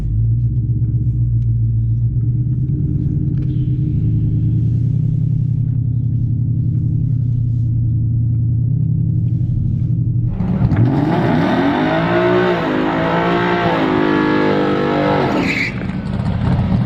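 A deep engine in a 2020 Coyote V8 drag car on E85 with a 10R80 transmission rumbles at a steady idle for several seconds, then revs hard and roars loudly, pitch climbing and dipping as it accelerates on a drag pass.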